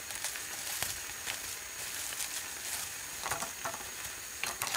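A fried egg cooks in butter in a pan with a faint, steady sizzle and scattered small pops and crackles throughout, heard alone without any voices.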